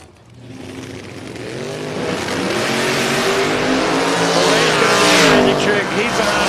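Mopar drag car without wheelie bars launching down the strip at a racing event, a loud roaring engine building from a quiet start into a sustained near blast, with a commentator talking over it.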